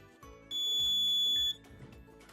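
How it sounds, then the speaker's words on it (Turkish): A single steady high-pitched electronic beep from an Arduino buzzer lasting about a second, loud and close, over faint background noise. "yanmakta hem de buzzer'ım ses vermektedir."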